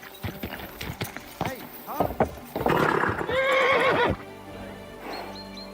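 Hooves clip-clop quickly, then a horse gives a loud, wavering whinny up close in the video game Kingdom Come: Deliverance II; a faint squeal follows as the commotion fades.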